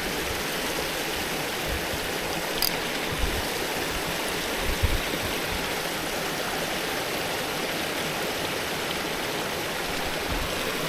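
A mountain stream pours steadily into a plunge pool, a constant broadband rushing roar close by that holds even with no break, a few faint knocks underneath and no voices.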